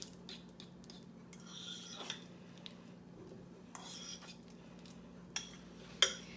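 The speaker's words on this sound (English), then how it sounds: "Just gave it a quick stir so it's nice and combined here." A spoon stirs a cream cheese mixture in a bowl, giving soft scraping rubs punctuated by light clinks and taps against the dish, close and fairly quiet with no talking.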